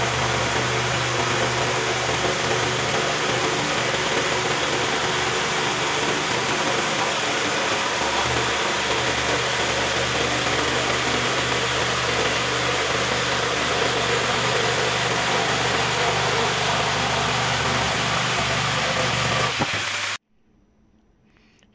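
Jigsaws, a Festool PS 420 EBQ and a Parkside Performance PPSTK 550 A1 fitted with a Bosch blade at low speed and pendulum setting 1, saw through 4 cm thick chipboard tabletop with a loud, steady buzzing rasp that stops abruptly.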